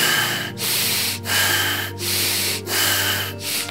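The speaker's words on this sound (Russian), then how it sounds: "Deep and fast, rasping breath" Close, loud breathing from a person in a guided meditation, deep and rapid with a rasping edge, in steady alternating breaths in and out separated by short gaps.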